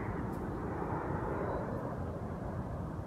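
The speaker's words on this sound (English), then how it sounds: "Look above. Here comes an airplane." Airplane passing overhead on its landing approach, a broad steady engine roar with a soft high whine, moderately distant and constant, no talking.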